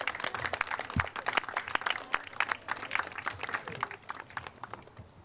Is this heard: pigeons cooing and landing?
no